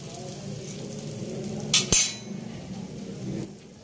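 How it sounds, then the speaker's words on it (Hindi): A lacha paratha fries on a flat pan over a low flame, giving a soft, steady sizzle, broken near the middle by a couple of sharp metallic clanks of a utensil against the pan. "पहले लच्छे वाली साइड इसकी हम फ्राई करेंगे, फिर दूसरी साइड से फ्राई करेंगे।"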